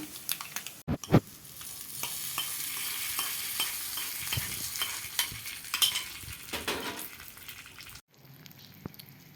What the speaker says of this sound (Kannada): ಒಗ್ಗರಣೆ ಇವಾಗ ಆಗಿದೆ ಇವಾಗ ಇದನ್ನು